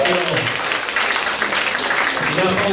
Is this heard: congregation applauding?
yes